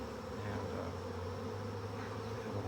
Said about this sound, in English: we have a lot of bees